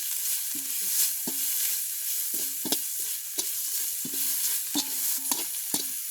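Onions and green chillies sauté in a pan in a village kitchen, a steady sizzle broken by repeated sharp scrapes and clanks of a stirring spoon against the metal, close and fairly loud.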